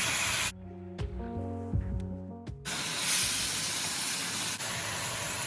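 Cooking wine hits a hot wok of fried fish and tofu and bursts into a loud, sustained steam hiss, broad and close, after a brief quieter stretch of clanking.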